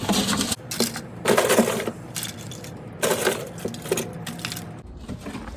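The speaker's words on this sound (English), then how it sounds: "So what I'm gonna do is put some more plastic in." Cut-up plastic scraps tumble into a container for melting, several bursts of hard, rattling clatter close up, separated by short pauses and quieter shuffling, with no talking.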